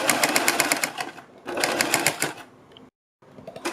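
A sewing machine stitches fabric right beside the buckram on a kurti neckline, rattling in two rapid, rhythmic runs near the mic, then stopping briefly before starting again.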